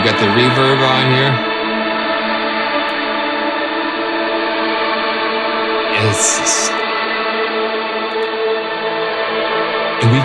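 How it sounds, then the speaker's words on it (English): A slow, smeared synth drone with heavy reverb sustains throughout, layered harmonic tones washing together, loud and continuous. "And we've got the reverb on here."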